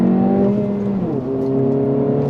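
A 2025 Honda Civic Si is driven hard in second gear on Michigan roads, its engine note climbing steadily as it accelerates. A brief dip in pitch breaks the rise before it keeps building, loud and close, with no talk.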